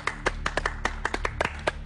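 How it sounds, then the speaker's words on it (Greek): Brief scattered clapping from a small studio audience, a handful of sharp individual hand claps in an uneven rhythm, fairly quiet and close, without voices. "Ένα χειροκρότημα από όλους."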